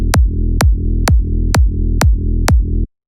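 Big room kick drum built in FL Studio from layered sub and punch, six heavy booming hits with sharp clicky attacks at a steady pulse, loud and alone over a sustained low bass tone.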